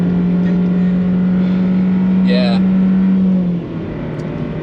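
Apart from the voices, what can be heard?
race car engine accelerating at full throttle on the Nürburgring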